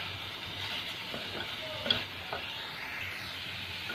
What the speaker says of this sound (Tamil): தேங்காய் போட்டு இது ஒரு 2 நிமிஷம் வதக்கிக்கலாம்.